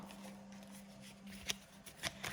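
Quiet close-up riffling and flicking of playing cards, a few soft brisk shuffles over a low electrical hum.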